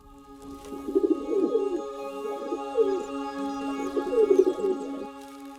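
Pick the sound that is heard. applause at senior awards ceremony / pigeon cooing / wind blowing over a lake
pigeon cooing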